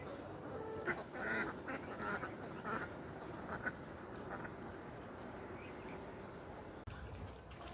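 Several quiet duck quacks come in short bursts over a soft outdoor background, a little distant, with a brief click near the end.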